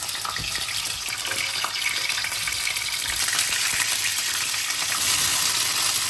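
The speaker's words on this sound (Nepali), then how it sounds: "जिन्जर गार्लिक पेस्ट हाल्ने" Ginger garlic paste sizzles loudly in hot oil with whole spices, a dense continuous frying hiss with occasional stirring scrapes, close and steady throughout.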